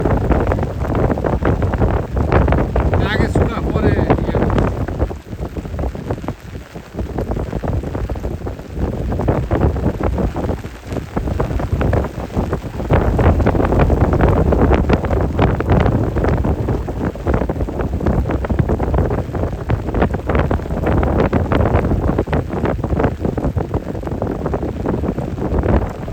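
Heavy rain and gusting wind batter the microphone outdoors by a forest fishing spot in rainy weather, a loud, continuous roar with wind buffeting throughout and a brief spoken remark near the start.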